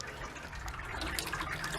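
Wort dripping and trickling from grain during an all-grain brew sparge, a soft continuous splashing patter heard alone at low volume.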